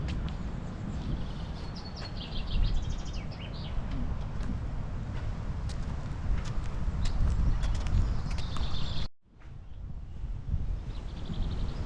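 Birds chirp faintly outdoors in Normandy over a steady background rumble, with scattered calls near the start and end and a brief drop in sound partway through.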